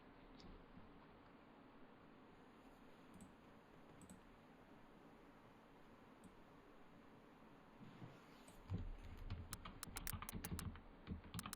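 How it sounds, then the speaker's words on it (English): Typing on a computer keyboard during a PC gaming stream, steady soft clicking under a constant noise floor, then a burst of louder, sharper key clicks near the end. "You can hear me typing."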